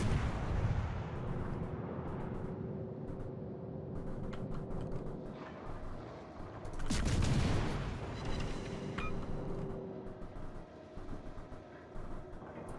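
Tank guns firing in a World War II video game, with heavy booming blasts and a rolling rumble of battle, one especially big explosion in the middle, fairly faint overall.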